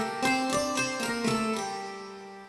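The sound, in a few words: Taishogoto sample instrument with 3.5 second plate reverb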